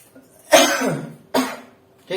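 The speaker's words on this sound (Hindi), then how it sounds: "थोड़ा खांसी आ रही है" A teacher in a maths class coughs three times in close succession, each cough a sharp, harsh burst up close with brief quiet between.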